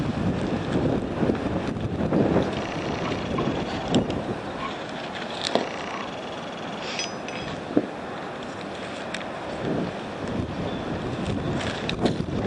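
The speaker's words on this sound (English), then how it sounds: "Freaking wind may be a problem today." Wind buffets a microphone outdoors, rough low rumbling gusts that go on without a break for about twelve seconds, with faint clicks and handling noises during a small engine carburetor repair.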